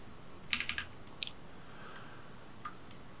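Computer keyboard keys, Ctrl and arrow keys, pressed while working in an Excel spreadsheet: a quick cluster of four or five clicks, then a single sharper tap and a faint last one, close and fairly quiet over a steady room hiss, no talking.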